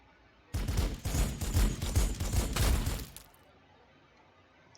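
Space Wolves Terminators open fire in Warhammer 40,000: Sanctus Reach, a dense burst of rapid, overlapping gunfire lasting nearly three seconds before cutting off, loud and close with no talk.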